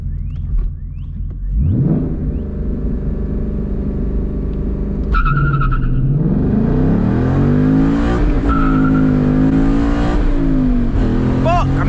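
A manual Ford Mustang GT with an MT82 transmission pulls hard on a quarter-mile run, its engine rising in pitch through revs with a gear change and a missed shift, loud from inside the car, with someone talking.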